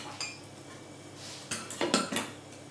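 A metal spoon scrapes and clinks against a pot of thickened white sauce, a few quiet scrapes then a cluster of sharper clinks near the end, close and soft.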